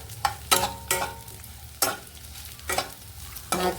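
Sliced bitter gourd frying in a pan with a steady soft sizzle, broken by several sharp scraping stirs of a spatula at irregular intervals; no one speaks.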